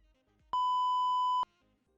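A single steady censor bleep, a pure electronic tone lasting nearly a second, cuts in sharply and stops abruptly, loud against faint background sound, during a Warzone livestream.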